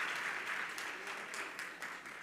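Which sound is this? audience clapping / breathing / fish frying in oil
audience clapping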